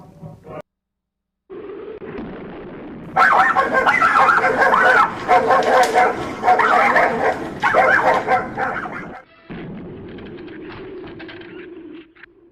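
Dogs dressed up as killer shrews for a horror movie bark in loud repeated bursts, with yips and whimpers mixed in and lower rumbling between the barks.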